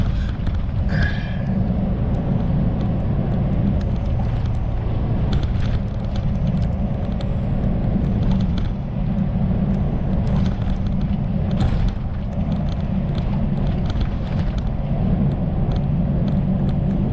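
Kenworth truck with a long wheelbase cruising on the highway between Kingman, Arizona and Amarillo, governed at 65 mph; a steady, loud low engine and road rumble fills the cab continuously, with no talk.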